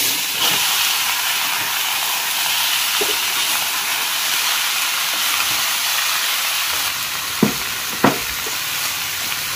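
Bottle gourd sizzles in a hot pan with ginger, cumin and green chilies, a steady loud hiss throughout with a couple of sharp knocks near the end.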